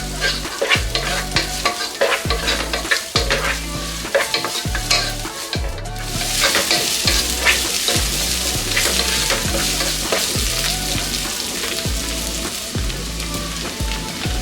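Finely chopped onions and curry leaves fry in a pan with a constant crackling sizzle, punctuated by rhythmic scraping as a spoon keeps stirring them, loud and near.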